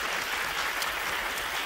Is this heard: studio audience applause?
yes